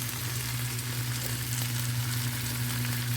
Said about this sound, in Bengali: এই যে মাংসে জল বলতে এই যে মাংসের এই স্টকটা এটা দিয়ে দেবো।